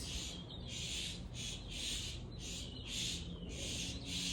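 Birds call outdoors at sunset in a rapid, repeating series of shrill, pulsing calls, about eight bursts in quick rhythm over a low background rumble, fairly close and steady, with no talk.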